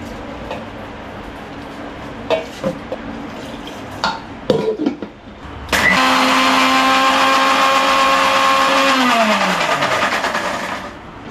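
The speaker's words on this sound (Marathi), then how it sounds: "मिक्सर घालया लायक करून फटाफट वाटून घेऊया" A mixer grinder grinding rice, fenugreek and coconut into batter for Konkani coconut dosa starts up suddenly after a few clicks and knocks, then holds a loud, steady whining motor roar that slowly winds down near the end.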